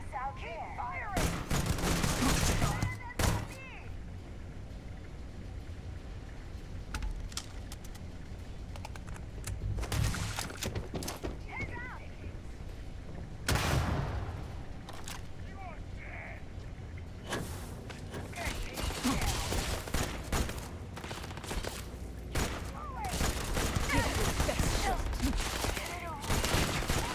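Gunfire in the video game Starfield, bursts of rapid shots and fusillades broken by quieter stretches, loud and close, with speech mixed in at times.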